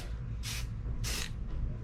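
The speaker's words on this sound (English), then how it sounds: "Let's actually spray down there." A spray paint can sprays cobalt blue metallic paint onto a model 1978 Dodge D100 truck in two short hissing bursts and a fainter third, close by over a low background hum.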